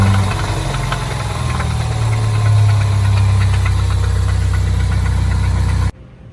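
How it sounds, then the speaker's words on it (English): A 2015 Ford Mustang 2.3L EcoBoost engine with a rod knock runs steadily, a loud close-up droning hum with a faint rapid knocking tick layered through it, then cutting off abruptly near the end. "It sounds like a knocking, like a rod knock or a ticking in the top of the engine"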